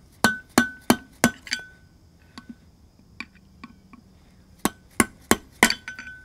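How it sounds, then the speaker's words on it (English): Metal taps on an RV trailer's hub bearing, knocking out the seal: a quick run of five sharp, ringing clinks, a stretch of lighter scattered taps, then another brisk burst of strikes, all close and without talk. "I'm just going to take and tap on each side of the bearing across from each other"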